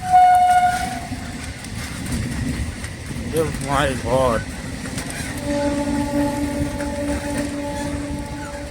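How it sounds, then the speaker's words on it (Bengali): A train passes along a railway line through thick fog, its horn sounding in two short rising blasts over steady rolling rumble, then a long held tone as it moves past; a person speaks briefly near the start. "দেখো ট্রেন সামনে চলে এসছে"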